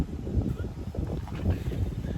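Wind buffets a camera microphone outdoors beside a Toyota Tundra, a low rumbling roar with irregular gusty thumps, fairly faint and steady over a couple of seconds with no talk.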